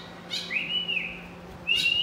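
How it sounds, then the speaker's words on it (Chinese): A single bird chirps outdoors in a few clear, high, whistled notes, close and fairly loud, with a pause between calls and no talking. "我好像听到有鸟叫了"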